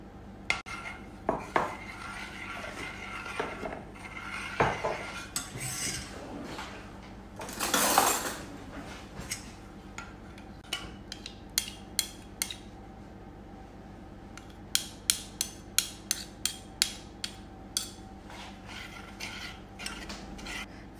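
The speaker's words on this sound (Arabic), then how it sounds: "فانا عندي هنا كاس كبير ديال الحليب سخون، غندير فيه معلقه كبيره ديال نوتيلا" A spoon clinks against a large glass while a big spoonful of Nutella is stirred into hot milk. Soft scraping gives way to a run of bright, evenly spaced taps near the end, close and clear.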